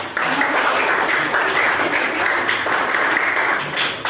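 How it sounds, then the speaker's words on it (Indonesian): A crowd claps steadily for about four seconds, a dense, continuous patter of applause with no pauses. "tepuk tangan dulu"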